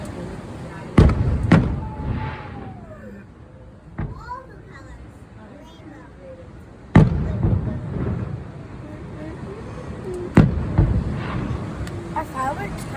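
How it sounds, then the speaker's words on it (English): Fourth of July fireworks over Emerald Bay burst in several sharp, loud booms spread across the stretch, with crackling tails between them, while children chatter and wind rumbles on the microphone. "Our fireworks kind of like fires in the sky."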